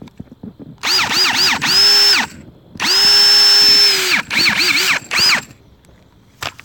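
A Ridgid brushless hammer drill runs in close bursts: several short revving pulses, two long sustained whirs, then more quick trigger pulses, loud and alone with brief silences between.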